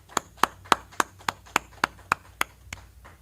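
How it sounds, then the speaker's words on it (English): A crowd claps in a regular steady beat, about ten sharp, evenly spaced hand claps sounding close and distinct against a quiet room. "Clap it up."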